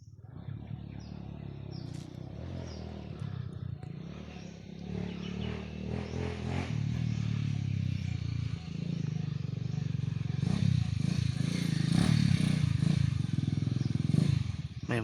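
A motorcycle approaching and passing, its engine noise rising from a faint rumble to a louder, closer clattering drone over about fifteen seconds, with outdoor background sound.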